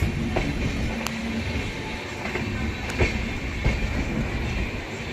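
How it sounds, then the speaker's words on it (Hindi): The Sambalpur–Jammu Tawi Express passenger train rumbles past close by in heavy rain, its wheels clacking in a steady rhythm over a dense, roaring wash of noise. "तो इधर आई है भाई संबलपुर जम्मू तवी एक्सप्रेस।"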